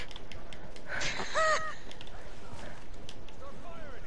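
A person voices a short, nasal caw in imitation of a crow, heard once near the middle, with faint room noise and a couple of softer vocal sounds later.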